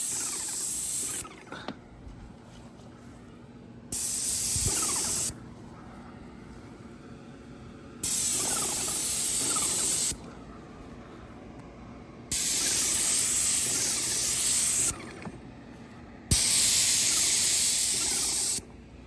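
Airless paint sprayer coating louvered shutters and doors, heard as loud bursts of steady hiss lasting two to three seconds each, about six passes separated by quieter gaps with faint background noise.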